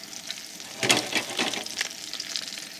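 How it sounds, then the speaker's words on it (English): Shell-on freshwater prawns sizzle in a hot frying pan, a crackling hiss with scattered pops and a brief stir or shuffle, close and moderately loud. "Sizzle, sizzle, looking good."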